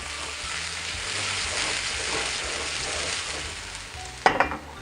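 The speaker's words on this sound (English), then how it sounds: "Once you're shimmering, we're gonna go ahead and add our chopped onions." Chopped onions sizzle in hot shimmering vegetable oil in a non-stick pan, a close, steady frying hiss that ends with a sharp clatter of a utensil.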